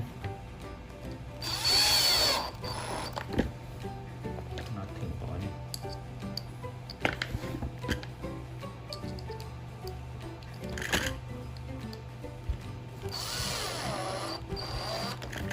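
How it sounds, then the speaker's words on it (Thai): A power screwdriver tightening bolts while assembling a small closed-box speaker whirs in two short loud bursts, early and near the end, with clicks and handling noise between and a steady low hum underneath. "โอเคเดี๋ยวยึดน็อตยังไม่ต้องยึดครบหรอก"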